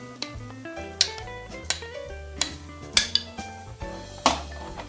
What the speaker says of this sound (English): And then I'll mix my gravy in with that.